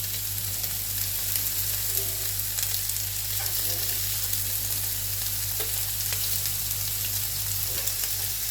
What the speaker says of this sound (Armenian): բուսայուղը տաքացնելուց հետո հավի կրծքամիսն եմ մեջը լցնում